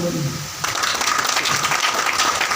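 An audience at a leadership training seminar breaks into clapping, a dense patter of many hands that starts abruptly after a brief voice and holds steady to the end.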